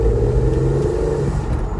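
A 2011 Porsche 911 Speedster's 408-horsepower flat-six engine gives a short, loud, steady rev from a light tap of the gas, heard close with a deep, even drone.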